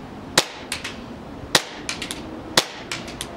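An airsoft pistol of the TM/WE G17 Hi-Capa type with a Maple Leaf hop-up fires three sharp, close pops about a second apart, each followed by quieter clicks and target impacts.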